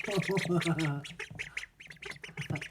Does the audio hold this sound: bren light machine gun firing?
no